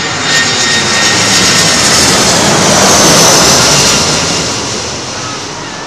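A DC-8 jet airliner arriving on runway 27L at London Heathrow, a loud, broad engine roar that holds steady for several seconds and then slowly fades as the aircraft passes.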